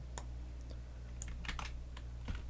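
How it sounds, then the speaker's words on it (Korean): A computer keyboard clicked by someone working in Cinema 4D: a few quiet, sharp key taps, some in quick pairs, over a low steady electrical hum, with no voice. "키보드상에서 컨트롤 A"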